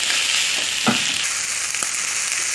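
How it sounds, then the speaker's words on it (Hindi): Chicken pieces with capsicum sizzling in a pan, a steady close hiss of frying with a couple of brief stirring scrapes. "अब हम इसमें शिमला मिर्च डाल देंगे और इसको भी 1 मिनट में हल्का सा फ्राई कर लेंगे।"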